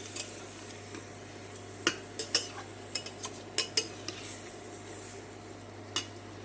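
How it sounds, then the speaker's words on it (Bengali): Washed Gobindobhog rice and mung dal go into a cooking pot, heard as a scattered series of light clinks and taps against metal over a steady low hum, fairly quiet with no talking. "এই যে চাল, মুগ ডাল আর চাল ধুয়ে রেখেছি, গোবিন্দভোগ চাল দিয়ে দিলাম।"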